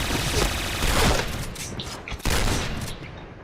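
Dense gunfire in the Point Blank video game, a continuous burst of rapid shots through the first half, then a sharp loud report near the middle followed by more firing, close and loud with no talking.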